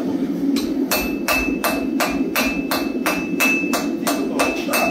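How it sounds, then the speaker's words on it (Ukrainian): Rebar struck again and again by a hammer in a forge workshop, a loud close series of sharp metallic strikes at a steady, fairly quick rhythm with a ringing tone and no talking. "Тобто молоток постійно б'є в цю точку, а деталь ти просуваєш поступово, а молоточком постійно б'єш."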